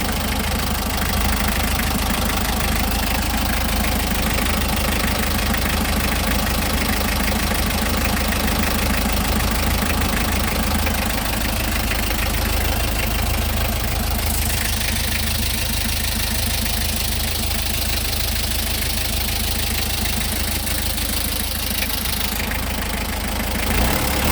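A 2006 Mitsubishi L300 pickup truck engine idles steadily and close, with a rough, ticking knock under a continuous broad rumble that barely changes throughout.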